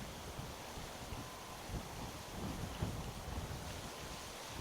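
Strong wind buffets a microphone outdoors on a very windy day in Florida, a steady loud rumbling roar with gusty swells and no speech.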